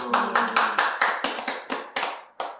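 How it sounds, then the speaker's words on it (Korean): Hands clap in a steady, evenly spaced rhythm, about ten sharp beats in a row, close and fairly loud, as an audience applauds at a Korean gathering. "박수."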